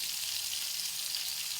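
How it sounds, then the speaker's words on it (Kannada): Fish sizzles steadily in hot oil in a pan, a dense, even crackle with no pauses, close and moderately loud throughout. "ಚೆನ್ನಾಗಿ ಫ್ರೈ ಆಗ್ತಿದೆ."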